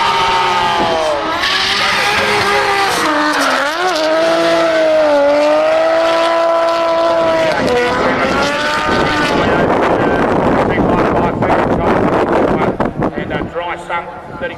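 The green Nissan R32 time attack car, dry sump and 35R turbo at 25 PSI, screams loud and close on track. Its engine note climbs and dips through the gear changes, then fades into rushing noise as it passes.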